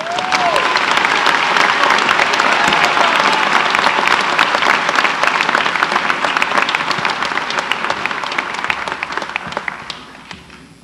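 A crowd claps for the graduates at a State College of Florida spring graduation ceremony. Dense, loud applause fills the hall throughout and tapers slightly toward the end.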